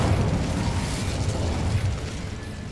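An Incendio spell cast in a video game bursts out as a loud fiery whoosh and crackle that slowly fades over a few seconds.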